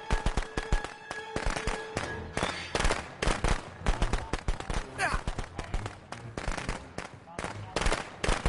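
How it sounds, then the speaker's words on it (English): Firecrackers going off in the video game Friday the 13th: The Game, a rapid string of sharp cracking pops in uneven bursts, loud and close, with speech mixed in. "Firecracker just stunned."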